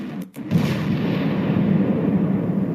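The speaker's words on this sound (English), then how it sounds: "Then another explosion. Louder, closer." A deep, rumbling explosion of wartime artillery erupts after a short gap and rolls on as a sustained, loud low roar to the end.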